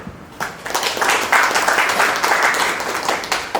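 A theater audience at a play by a Mumbai Kannada troupe breaks into applause, many hands clapping in a full, steady wash that swells quickly and holds.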